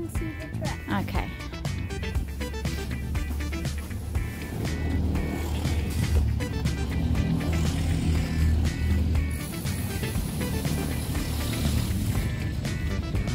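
Hire go-karts run on a shared karting track, a steady engine drone with buzzing harmonics throughout, loud and close, with people talking over it now and then.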